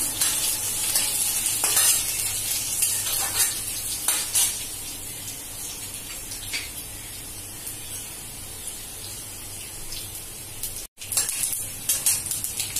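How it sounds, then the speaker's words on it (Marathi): Finely chopped garlic frying in hot oil for a tempering, giving a steady close sizzle with frequent stirring scrapes against the pan and a brief gap near the end. "लसूण चांगला लाल झालाय, फोडणी तडतडली"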